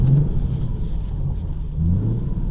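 A Ford Mustang's engine rumbles and revs nearby, a deep throaty drone that swells and eases a couple of times, with no talk over it.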